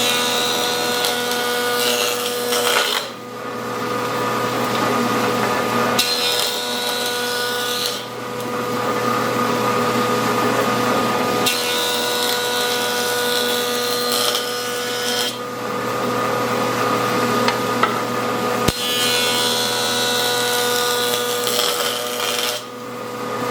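A woodworking jointer runs with a loud, steady motor whine while boards are fed across it, the tone shifting in several repeated cutting passes separated by brief dips, with no voices.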